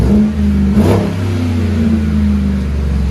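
A loud, deep 2017 GMC Sierra 5.3-liter V8 with Flowmaster FlowFX dual side-exit exhaust revs up briefly near the start and then settles into a rumbling idle, close by and steady, with no voices.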